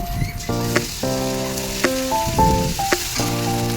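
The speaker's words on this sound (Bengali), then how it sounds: "আদা রসুন ভাজা হয়ে গেছে" Onion, garlic and ginger fry in oil in a pan while an egg and potato curry is being made. A steady, loud sizzle runs throughout, with tonal notes layered over it.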